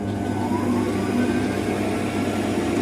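A mini lathe motor runs steadily at close range, a continuous even hum with a mid-pitched whine and no speech over it.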